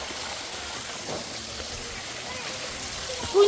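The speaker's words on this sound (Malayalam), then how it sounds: "വെള്ളം, ചെറിയ വെള്ളച്ചാട്ടം." A small waterfall splashes and gushes steadily nearby, a constant broadband wash of falling water with no clear breaks, ending in a brief louder bump.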